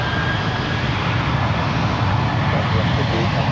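An airliner takes off at San Francisco International Airport, a loud, steady broadband engine roar sustained throughout, close and dominating with no pauses.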